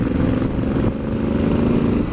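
Honda Africa Twin Adventure Sports motorcycle with an aftermarket exhaust pipe rumbling loudly and steadily under the rider on a morning ride, a continuous low engine drone with wind noise.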